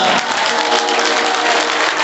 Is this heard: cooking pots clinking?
no